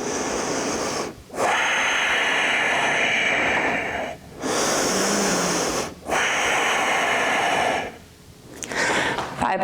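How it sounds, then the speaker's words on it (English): Deep, slow breaths during a yoga flow, with long airy inhales and exhales separated by brief pauses, close to the microphone. "And breathe."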